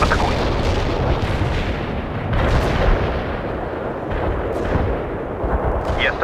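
An artillery barrage pounds in the World in Conflict video game, with loud, continuous, rumbling explosions and booming impacts rolling one after another at close range, and a brief crackling burst near the end.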